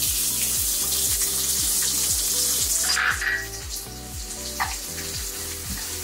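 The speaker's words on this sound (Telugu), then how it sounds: "ఆనియన్స్ కూడా బాగా ఫ్రై అవ్వాలండి." Onions fry loudly in hot oil for chicken kaju fry, giving a dense, continuous sizzle with regular clinking and scraping of a stirring spoon. The sizzle softens slightly toward the end.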